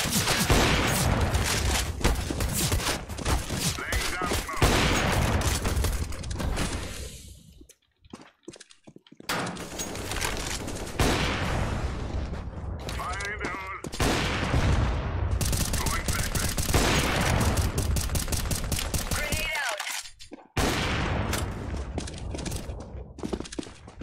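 Video game gunfire rattles out in dense, loud bursts of rapid shots, with brief pauses between volleys before the shooting resumes.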